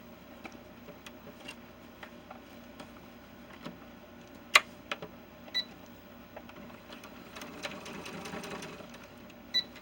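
Sewing machine tacking down a pleat on pants for a 70 cm male ball-jointed doll, heard as a faint, steady mechanical whir with light ticking clicks and a few sharper knocks, with no talking.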